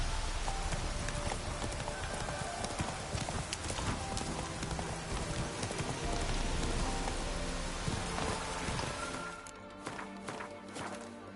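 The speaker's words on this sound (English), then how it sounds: "Horse, stop running away, stupid animal." Horse hooves pound in a rapid, continuous gallop in the game The Witcher 3, thick and busy over rain-like noise, then thinning out near the end.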